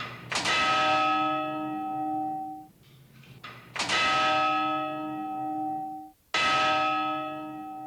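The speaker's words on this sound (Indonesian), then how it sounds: "Setiap jam, lonceng jam gadang selalu berdentang" The Jam Gadang clock tower bell rings three times, each strike bright and ringing with a long decaying hum, the chimes spaced a few seconds apart with quiet gaps between.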